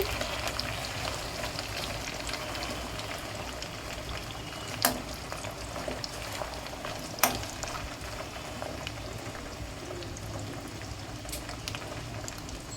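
Potato French fries fry in hot oil over a medium flame with a constant bubbling hiss. Two sharp clicks cut through partway, and no voices are heard.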